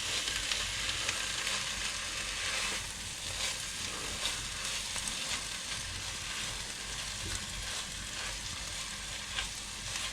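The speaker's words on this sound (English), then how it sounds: "And now we're gonna fry the rice a little bit in this mixture." Rice sizzles and fries steadily in a chicken biryani spice base, a continuous crackling hiss close by with occasional soft stirring scrapes, and no voices.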